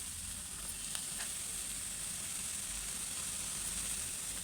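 Tomatoes hit a pan of reddened onions in hot oil, producing a constant hissing sizzle that stays even and close throughout, with a couple of faint clicks and no speech.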